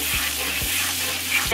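Minced garlic sizzles in melted butter in a pan, a steady close hiss punctuated by a few low stirring knocks, with no voices.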